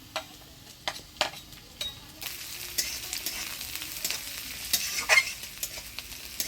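Onion, crushed garlic and green chillies fry in a pan in a village kitchen for a Bengali fish curry. Soft sizzling runs under sharp, repeated clicks and scrapes of stirring, which come quicker and busier in the second half.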